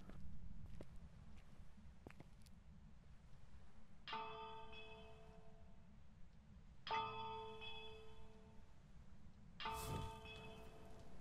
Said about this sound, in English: We're going to ring this bell three times